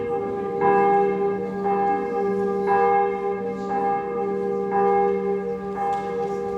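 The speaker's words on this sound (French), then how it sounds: "Elles sont belles, ces cloches." Church bells ringing steadily during a Sunday homily, resonant strokes repeating about once a second over a sustained humming drone, fairly close and loud.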